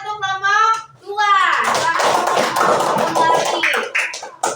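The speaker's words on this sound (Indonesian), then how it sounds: "Kasih tepuk tangan untuk kelompok 2" Group of children in a classroom clapping together for a student group, a dense burst of hand claps following a voice and running on with voices mixed through it.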